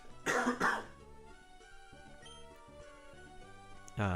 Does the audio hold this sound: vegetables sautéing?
no